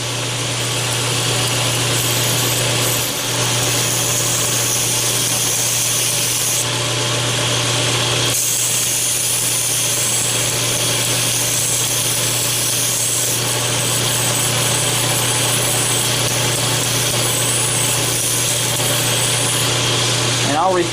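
A grinder rough-grinds metal with a dense, continuous abrasive roar that stays close and loud. It pauses in a few short breaks before resuming.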